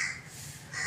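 A crow caws outdoors on a heavily foggy day, giving two harsh, fairly close calls, one at the start and one at the end, with quiet air between them and no talking.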